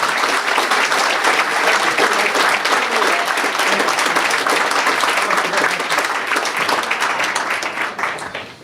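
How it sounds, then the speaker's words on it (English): A loud, sustained round of applause for the mayor at a State of the City event in Elmhurst, dense crowd clapping that stays full for several seconds before tapering off at the end. "Then give the mayor a nice round of applause again."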